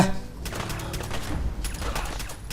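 A rapid string of pistol shots in the Fallout 4 game, sharp cracks in quick succession over a low rumbling background, fairly close and steady.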